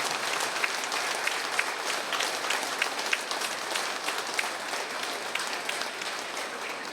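A hall audience at a spiritual book launch applauds together, a fairly soft, even patter of many hands with a few sharper claps popping out above the sustained wash.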